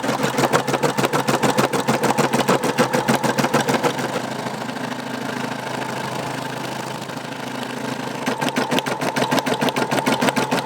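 A Brother embroidery machine stitching the top and bottom border of an embroidered patch, a loud, steady rapid needle chatter with a mechanical hum, briefly smoothing mid-run before the fast pulsing returns, with no voices.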